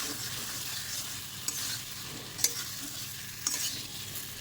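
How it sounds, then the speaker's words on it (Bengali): Fried taro pieces stirred into cooked-down spices in a pan, a soft continuous sizzle with a few sharp scraping clinks of the spatula, fairly quiet and without talk. "এবার ভেজে রাখা গাঠি কচুগুলো দিয়ে দেব"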